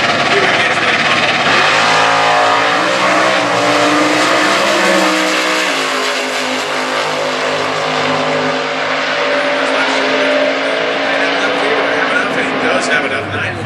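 Stock class drag race cars with heavy 426 cubic inch engines roar loudly at an Indy drag event, engines droning and shifting under a track announcer's commentary throughout.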